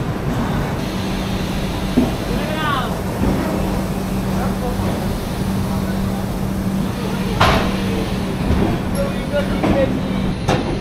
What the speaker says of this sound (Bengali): আমাদের ট্রেন এবার ছেড়ে দিল